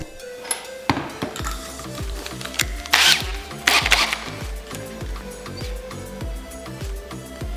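Power drill boring a hole through the lid of a bottle, heard close as a steady whirring run with a repeating mechanical pulse and brief louder bursts where the bit bites, no talking.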